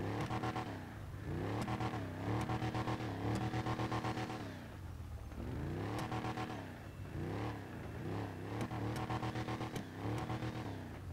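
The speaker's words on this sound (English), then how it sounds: "But yeah, I'll rev it again here." A fully upgraded SLAMVAN pickup truck in GTA 5 Online, its engine revved over and over in rhythmic surging bursts with gear-like pitch sweeps, loud and close, no talk.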